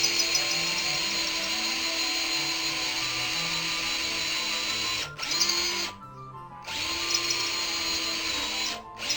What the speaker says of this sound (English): the end of the peg, when you drill it, all of a sudden it jumps in